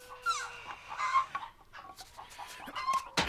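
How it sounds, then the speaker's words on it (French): Cartoon chickens cluck and squawk close up in a rapid, busy series of calls, one reaching toward a crow-like cry, with no talking. "Poyu essaye de jouer avec les poules."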